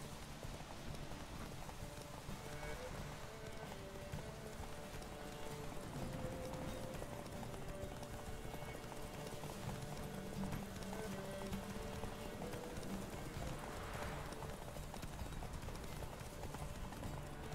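Roach the horse gallops in a video game race, a steady clip-clop of hooves running throughout over a constant wash of rain-like ambient noise, fairly continuous and mid-distance.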